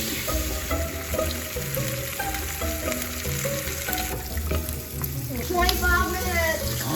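Bacon frying in a pan during a hurried Thanksgiving cooking challenge makes a constant sizzle, with some faint background clatter and water noise.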